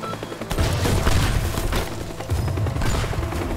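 Rapid, heavy turret gunfire in the destruction game Teardown, loud and continuous with booming bursts and crashing debris throughout, no talk over it.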